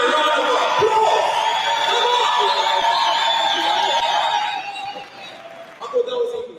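Audience at a Cosmo City business seminar applauds and cheers in a dense, steady wash of clapping that fades after a few seconds, with a brief swell near the end.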